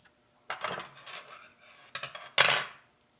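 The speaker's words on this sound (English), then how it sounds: "let's tap this plate." A hand tap cuts threads into a metal plate. Three bursts of gritty metallic grinding and scraping sound close by, the last one the loudest, with quiet pauses between them and no speech.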